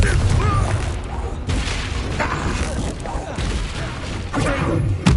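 A Confringo fire spell bursts in Hogwarts Legacy with heavy booming blasts over a rumbling low end, while a voice talks over the action.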